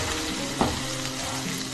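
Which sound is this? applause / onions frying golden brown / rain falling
onions frying golden brown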